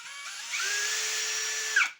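An Einhell TP-CD 18/80 Li BL cordless brushless impact drill spins up with a rising whine, holds a steady high-pitched motor hum close by, then winds down sharply and stops.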